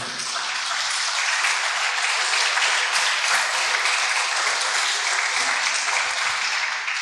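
Church congregation applauding as an offering to the Lord during a sermon, a steady dense wash of many hands clapping that fills the room evenly from start to finish, with no voices over it.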